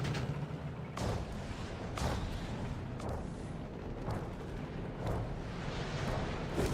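A Stuka dive bomber barrage in Company of Heroes 3 lands as a string of heavy explosions, about one booming blast per second, each rolling over a dense, continuous rumble of battle.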